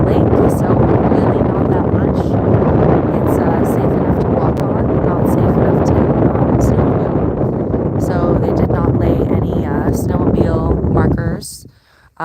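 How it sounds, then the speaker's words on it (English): Strong wind buffeting a microphone outdoors on a frozen lake with about eight inches of ice: loud, continuous low rumbling gusts for most of the stretch, dropping off sharply at the end, with faint talk mixed in. "I think my mic picks up the wind a lot more"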